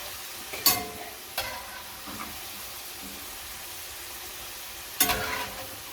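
French fries cooking in hot oil for poutine, a faint steady sizzle broken by a few sharp scraping clatters of a slotted ladle in the pan.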